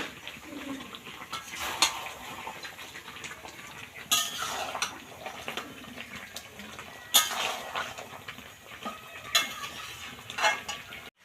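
Meat being stirred in a metal cooking pot, with repeated scraping and clinking of a utensil against the pot in irregular strokes and occasional louder clanks, close by.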